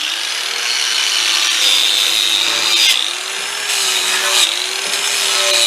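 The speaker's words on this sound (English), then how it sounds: "I'm going to clean the hub off with a wire wheel, get all this old corrosion off, and just clean everything up" A wire wheel scours corrosion off the front wheel hub of a 2011 Mercedes-Benz GL450 4Matic, a loud close-up metallic whir with brief dips in pitch as it presses and eases against the metal.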